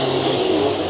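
Race cars lapping Santa Maria Raceway during heat races, a steady mid-pitched engine drone heard from a distance for under a second, with no voices over it.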